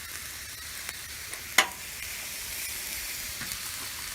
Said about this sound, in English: I'm gonna go ahead and mix this squash and carrots together. Get them good and hot.